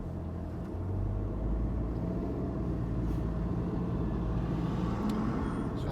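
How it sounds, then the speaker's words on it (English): A garbage truck idles at a curbside stop during trash pickup, its steady low diesel rumble filling the scene throughout with a faint hiss of air brakes and no one speaking. "The trash truck that just kind of stopped right there."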